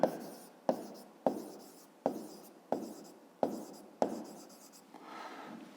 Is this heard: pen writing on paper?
yes